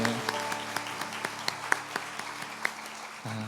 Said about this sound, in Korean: 따뜻한 박수로 드렸습니다.